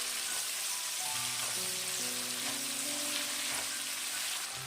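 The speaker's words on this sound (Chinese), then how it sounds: "然后放入切好的葱花姜末，翻炒均匀，炒出香味。" Chopped scallion and ginger stir-fried in a wok, a steady soft sizzle with faint scraping of the spatula, continuous and moderately quiet.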